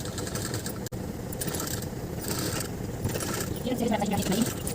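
A sewing machine stitches pleats on a kurta sleeve, a steady droning motor hum that runs throughout, with a person speaking over it.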